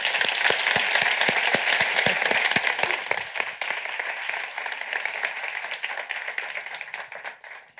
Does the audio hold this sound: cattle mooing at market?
no